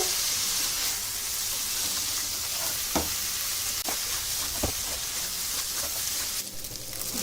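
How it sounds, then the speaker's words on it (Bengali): Food for egg pulao sizzling in a hot pan, a constant hissing fry with a few sharp clicks and scrapes as it is stirred, no voices present. "এবার ঢেলে দেব। দিয়ে ভালো করে নাড়তে থাকবো।"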